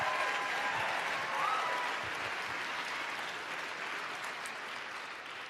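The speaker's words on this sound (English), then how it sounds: "Please, round of applause for Sarah to come up on stage." Audience applause at an Ignite Seattle talk event as a speaker comes on stage: a steady wash of many hands clapping from a mid-sized crowd, heard at some distance and fading gradually, with no talk over it.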